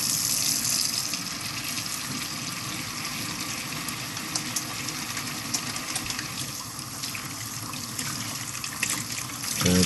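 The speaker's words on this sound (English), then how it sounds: "Wash my hands." Tap water runs steadily into a sink as hands are washed during souffle preparation, a continuous close gushing splash filling the whole stretch with no voices.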